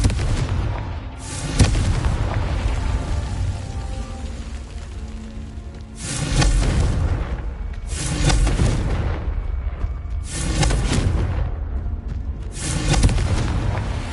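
Confringo blasting spells go off in Hogwarts gameplay, producing several loud, deep booming explosions with long rumbling tails, spaced a few seconds apart over continuous low background noise.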